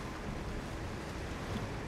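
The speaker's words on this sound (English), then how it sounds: "the water's rising so fast" Water rushing and rising fast in the video game Still Wakes the Deep: a steady, loud, full-band roar of surging water that continues without break, with no voices over it.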